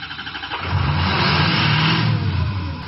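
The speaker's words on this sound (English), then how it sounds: "crank engine for 10 seconds until test is complete" Powerstroke diesel truck engine cranks over during a compression test, a loud, steady, close mechanical churn with a rhythmic starter pulse that holds evenly for a few seconds, with no voices.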